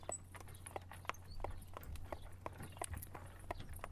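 Horses pulling carriages clip-clop over cobbled streets in an old Georgian town, faint, evenly spaced hoof knocks at a walking pace over a low steady background hum.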